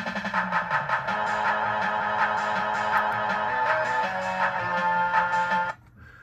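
Background soundboard of a Williams System 11 pinball machine running in test mode: a steady, busy electronic music loop with repeated tonal stabs and a bass line, ending abruptly near the close.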